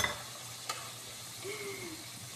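Chicken bacura pieces frying in a pan and being turned, a quiet steady sizzle with a clack of the utensil and soft scraping as they are flipped.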